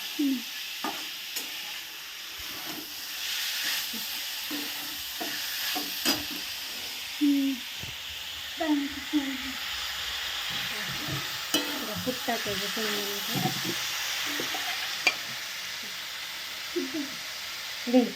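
Beans and crushed peanuts sizzle softly in a hot turmeric tempering while a spoon stirs and scrapes the pan, with a voice talking quietly over the cooking.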